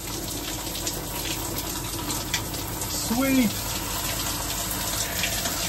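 Water sprays steadily and close from an RV high-pressure shower head, a constant hiss under a person speaking a short word.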